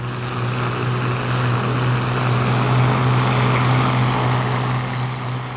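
Avro Argonaut airliner in flight, its piston engines turning propellers in a steady, dense droning roar with a low throbbing hum underneath, constant and loud throughout.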